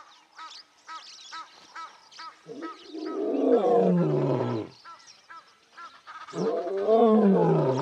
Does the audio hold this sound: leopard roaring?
yes